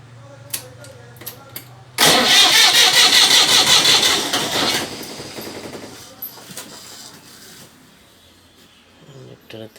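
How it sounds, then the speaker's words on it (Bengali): A generator's diesel engine is cranked and catches. It sputters loudly into a fast, rough chatter for about three seconds, then dies away to faint clicks. A voice is heard nearby. "এখন আমি আরেকবার স্টার্ট দেওয়ার জন্য ট্রাই করব, এবং এগুলোতে যদি তেল চলে আসে তাহলে ইঞ্জিনটি স্টার্ট হয়ে যাবে।"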